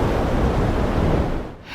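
Rough, roaring wash of surf and wind, a dense broadband rush that briefly eases near the end.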